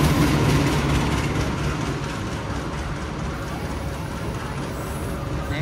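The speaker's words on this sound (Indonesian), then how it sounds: "Keretanya sudah datang." A local Bandung Raya commuter train hauled by a CC 206 locomotive rolls into the station with a loud, steady rumble and rail noise that eases off slightly as it slows.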